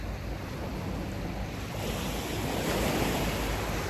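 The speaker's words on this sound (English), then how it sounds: "To listen to the sound of the waves" Steady roar of ocean surf washing onto a beach, swelling slightly louder toward the end, with some wind rumble on the microphone.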